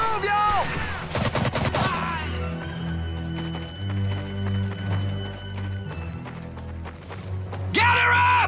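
Gunfire in a WWII video game battle, with sharp shots clustered early and near the end, set against a steady low rumble, horse-like clip-clop sounds and shouted voices throughout.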